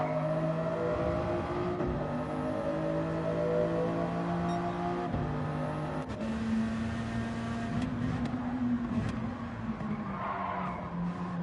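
Toyota Supra and Peugeot RCZ race cars circling a track, engines droning steadily with sustained revving tones that rise and fall close by, a worn rear tyre sliding through the laps, no talk over the continuous roar.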